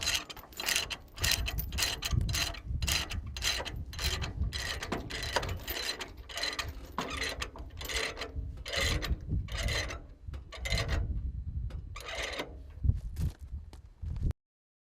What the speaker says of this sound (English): Fasten each corner of the machine to the trailer with a chain or cable with appropriate load binder.